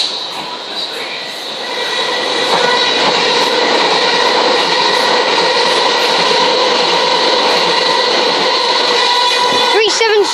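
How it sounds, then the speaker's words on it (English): Southern Class 377 electric train passing non-stop through South Croydon station, a sustained loud whining and rushing roar with rail clatter, swelling as it comes through and holding steady to the end. "And we also have another non-stopping service. This time it's a Southern 377."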